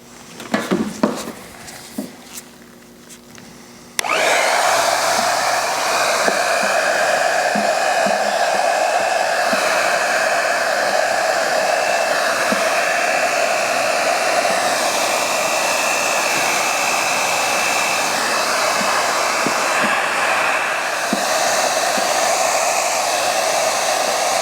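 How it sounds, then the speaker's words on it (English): After a few quiet handling noises, a hair dryer switches on and blows with a loud, steady whir that continues without a break, drying protective film on a 2015 Chevrolet Suburban headlight. "Now we use one of like a hair dryer to help finish the installation and evaporate some of that moisture"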